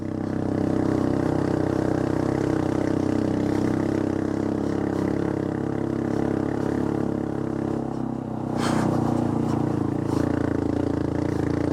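A Honda Monkey motorcycle on a trail ride, its small engine droning steadily with a rough, clattering tone, a brief surge in revs partway through, then settling back to an even hum; no talking.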